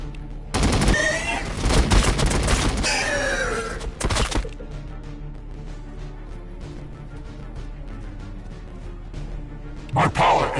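Gunfire erupts in the Battles Sector video game, a loud, dense burst of rapid shots for a few seconds, then a lull with faint rumble before another short volley at the end.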